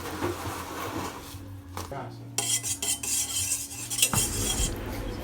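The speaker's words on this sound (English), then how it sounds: "give that a quick stir" A spoon clinks and scrapes around a bowl as yeast water is stirred with olive oil and oregano, in a short burst of close kitchen sounds with a brief pause. A voice talks over part of it.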